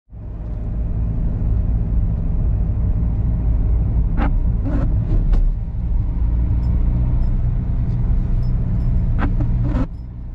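A car drives along a country road near a village on the River Soar, giving a loud, steady low engine and tyre rumble from inside the cabin, with a few brief sharp clicks or knocks over it.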